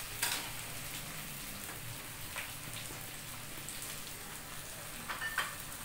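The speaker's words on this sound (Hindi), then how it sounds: "इसको भूनते रहेंगे सोयाबीन को।" Diced soybeans fry in a pan for soybean biryani, giving a steady soft sizzle with a few faint stirring clicks throughout.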